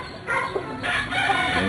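An old original Albany rooster crows close by, two short raspy crowing bursts in quick succession with farmyard background.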